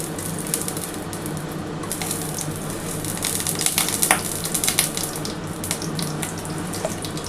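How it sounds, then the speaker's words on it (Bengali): Ghee heats in a kadai for semolina chomchom, giving a steady, loud, broadband sizzle with a watery hiss that runs without a break and without voices. "আমি প্রথমে কিন্তু কড়ার মধ্যে ঘি দিয়ে দিচ্ছি।"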